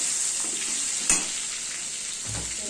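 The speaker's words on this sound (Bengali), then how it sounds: "সবজিগুলোকে ভাজা ভাজা করতে হবে" Cut potato, pointed gourd, pumpkin and eggplant fry in a pan with a continuous close hiss, one sharp clink of a utensil partway through and a low scrape near the end, with no talking.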